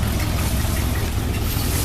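Chevrolet El Camino engine idling through a new stainless steel exhaust system on a cold day, a steady low rumble held close and loud with no break.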